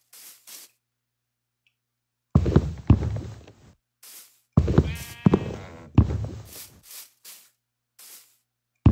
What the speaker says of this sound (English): Probably just the sheep.